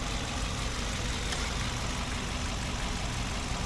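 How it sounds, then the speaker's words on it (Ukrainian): A 2007 Mercedes B170 1.7-litre petrol engine with automatic transmission idles smoothly and evenly, a steady low hum with faint mechanical texture and no talking. "Робота двигуна. Ідеально рівно тихо працює."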